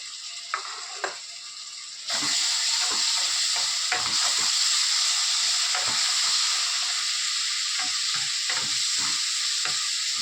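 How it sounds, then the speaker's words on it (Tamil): Ginger garlic paste fries in hot oil in a pan, a steady loud sizzle broken by repeated scraping knocks of a spoon stirring it, with the sizzle surging after the paste goes in. "இஞ்சி பூண்டு நம்ம எண்ணெயில் போட்டால் அப்படியே கொஞ்சம் அடி பிடிக்கிற மாதிரி இருக்கும்"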